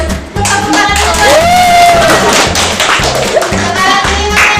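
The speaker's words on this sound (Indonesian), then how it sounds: "Tepuk tangan dulu." Students in a classroom clap their hands together in a steady, evenly spaced rhythm, close and fairly loud, with a voice faintly heard behind the claps.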